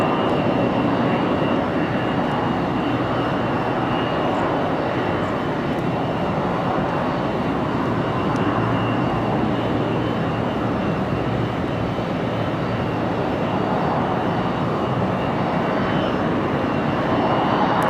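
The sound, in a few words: Delta jet departing RDU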